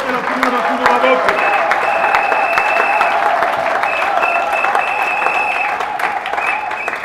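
A church congregation at a worship service applauds and cheers in sustained, loud, close clapping that fills the whole stretch, with voices and a steady musical tone underneath.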